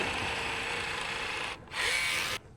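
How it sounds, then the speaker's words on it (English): Electric caulking gun run at speed setting 6, laying a bead of urethane for a windshield installation, a steady close motor whine that cuts out briefly, returns, then stops. "On my electric tool, I'm at number 6 and I just control the throttle with the trigger here."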